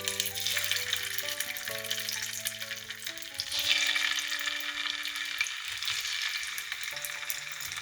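Potatoes frying in a spoonful of oil in a pan, a steady close hiss with faint scraping, under sustained background music tones throughout.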